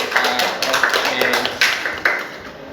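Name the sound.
applause for group 4 after presentation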